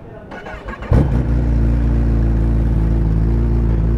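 A Kawasaki ZX-10RR sport motorcycle engine cranks briefly, then fires up with a sharp burst and settles into a loud, steady idle rumble up close.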